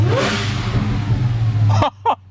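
A Dodge Charger Hellcat Redeye's supercharged engine, revved cold, roars loudly and steadily for nearly two seconds before cutting off abruptly, followed by a brief mechanical clatter and a short second burst.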